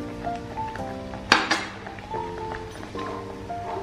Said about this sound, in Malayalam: വീണ്ടും ബാക്കി പഞ്ചസാര ചേർത്ത് കൊടുത്ത്